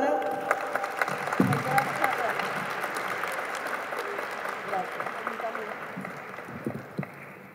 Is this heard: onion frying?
no